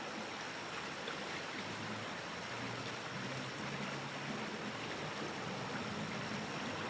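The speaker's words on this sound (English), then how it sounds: "Listen to the river." A river's rushing water makes a steady, dense broadband wash that holds at an even level throughout, with no voices over it.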